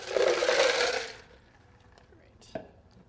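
A couple of cups of ice tumble into a Vitamix Series 200 blender jar in a loud, rattling clatter lasting about a second, followed by quiet and one sharp knock.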